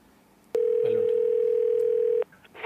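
A telephone dial tone sounds while a call is placed to a phone, a single steady tone holding for about two seconds, loud and close, with faint room noise before and after.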